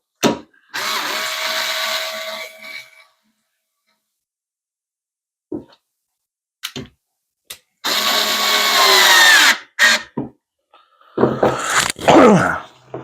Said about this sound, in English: Then I'll just hit them all with the electric screwdriver.